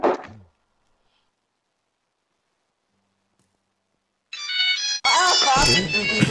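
A mobile phone ringtone plays loud and close, a melodic tone pattern starting after a long silence. A brief voice comes before it.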